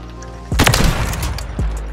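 Sniper rifle shots in a video game: a sharp loud blast opens the burst with a rumbling tail, and a second, lighter shot follows about a second later, over a steady low background drone.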